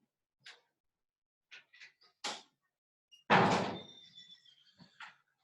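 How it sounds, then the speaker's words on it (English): A door swings shut in a quiet classroom during a Spanish lesson, landing as one close, solid thud with a brief ringing tail, between a few soft scattered knocks and rustles. "I'm gonna close the door just so we can see."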